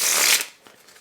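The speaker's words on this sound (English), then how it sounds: "You forget how to shuffle." A deck of playing cards with soft card stock is riffle-shuffled close up in one loud burst of rapid flutter lasting under half a second, then a few faint light taps and card handling.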